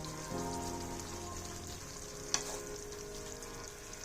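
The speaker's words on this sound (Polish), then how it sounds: "Krewetki w sosie smażę nie dłużej niż 3 minuty." Shrimp frying in a creamy garlic sauce in a pan, giving a steady soft sizzle with a brief sharp clink partway through and no voices.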